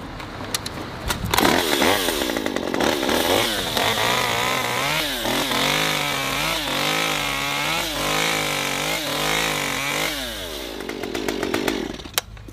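A gas Stihl MS-193 top-handle chainsaw with a 14-inch bar revs up and bites through a two-inch branch, its loud engine whine rising and bogging in pulses under load before easing back to idle near the end.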